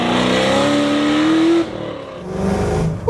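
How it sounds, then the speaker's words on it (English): A supercharged LS3 V8 in a 1969 Chevrolet Camaro RS/SS pro-touring restomod, heard from inside the car. The engine revs up with a rising whine, drops off briefly on a shift, then pulls hard again. "Yeah, baby, that Supercharger's screaming!"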